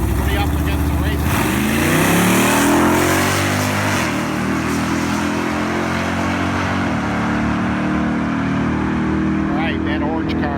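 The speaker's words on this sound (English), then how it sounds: "we got Jack from the home club in his 502 cubic inch, brand new motor in there" Drag race car with a brand-new 502 cubic inch engine, revving and roaring loud and close as it accelerates down the strip, engine tone sweeping upward through gear changes, with a voice talking over it.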